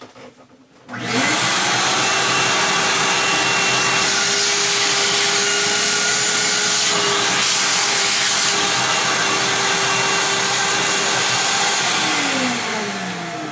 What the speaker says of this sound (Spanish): el taladro a la hora de hacer el orificio